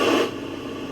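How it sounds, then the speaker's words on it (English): Radio static hisses between stations as a short burst of broadband white noise, louder at first and then settling to a steady, slightly softer rush. "Do you like to just listen to white noise?"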